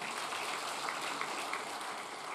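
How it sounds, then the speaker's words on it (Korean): A church congregation applauds during Sunday service announcements, a steady, dense wash of clapping at moderate level throughout, with no talking. "여기 박수 한번 쳐주세요."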